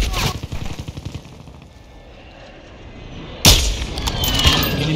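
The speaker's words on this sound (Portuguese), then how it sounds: "Estão atirando em mim." Gunfire in the Warzone 2.0 video game on Ashika Island, with loud bursts at the start, a quieter stretch, then a sharp close shot followed by continued crackling fire and in-game voice lines.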